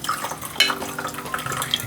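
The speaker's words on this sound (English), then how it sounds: "I'm gonna add some more hot water" Hot water is poured into an Irish coffee glass holding muddled sugar, a close, bright splashing trickle with small clinks, running steadily for a couple of seconds with no voices.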